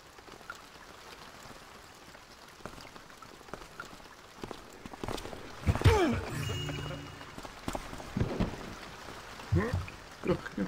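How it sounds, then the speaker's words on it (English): Rain falling in the stealth video game Thief, a steady hiss of drops spattering on surfaces with some louder splashes, while a voice talks over it. "Catch a death of cold in this rain."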